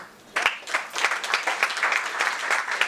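An audience at a get-together event bursts into applause welcoming a guest on stage, a sudden onset of brisk clapping that continues steadily at moderate level for a few seconds.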